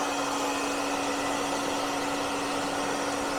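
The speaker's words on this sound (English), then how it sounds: "put it on the highest setting that you have on your hairdryer" A hair dryer on its highest setting blows steadily and close up while heating frame protection film. It gives a constant whirring hum with no talking.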